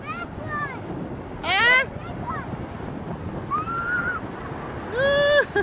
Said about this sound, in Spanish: Miren qué olas tan agresivas